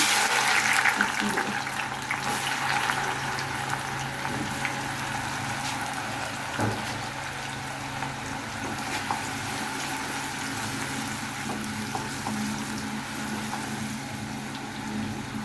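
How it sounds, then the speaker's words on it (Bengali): Medium-thick onion slices for fried onion garnish sizzle steadily in hot oil, a dense continuous frying hiss that holds at an even level throughout. "এখন তেলটা গরম হয়ে গিয়েছে, এখন আমি পেঁয়াজটা দিয়ে দিচ্ছি"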